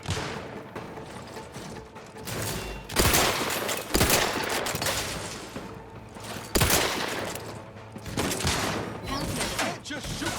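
Gunfire in The Outer Worlds comes as dense, sustained volleys with sharp loud cracks scattered throughout, and voices are faintly mixed in.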